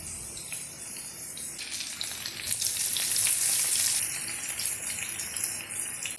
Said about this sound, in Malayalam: ഇനി ചിക്കൻ വറുത്ത അതേ ഓയിലിലേക്ക് ഒരു ടീസ്പൂൺ വെളുത്തുള്ളി, 1 ടീസ്പൂൺ ഇഞ്ചി, 1 പച്ചമുളക്, 2 തണ്ട് കറിവേപ്പില, ഇതെല്ലാം മിക്സ് ചെയ്യുക.